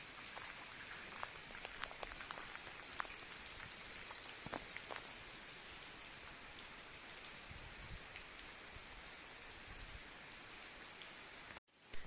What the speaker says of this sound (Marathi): पाऊस जास्त आहे